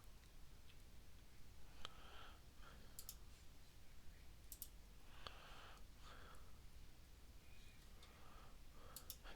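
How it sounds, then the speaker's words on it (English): Faint, scattered computer mouse clicks in a quiet room, single and double clicks at irregular spacing, with light breathing around them and no talk. "when I click on details."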